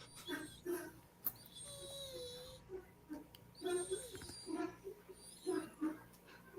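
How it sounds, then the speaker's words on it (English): A dog whimpers and whines over its toy in soft, high, repeated cries, faint and close, with brief thin squeaks between them. "Look at the dog."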